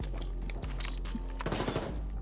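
Gunfire in the Arena Breakout Infinite video game: a burst of rapid shots, fairly close, layered over a steady low game hum.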